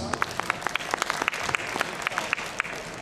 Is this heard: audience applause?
yes